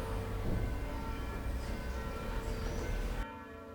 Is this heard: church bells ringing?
yes